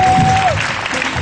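Church congregation applauding and cheering, a dense burst of clapping from a crowd, loud and close, with a brief tone at the start.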